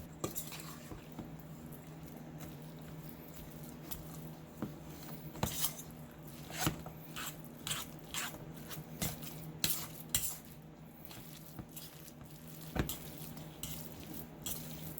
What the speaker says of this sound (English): Try to blend the cheese all together the best you can.